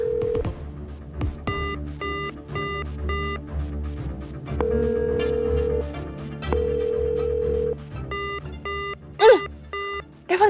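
A telephone rings on and on without being answered, its repeated electronic ring bursts cycling steadily over soft background music.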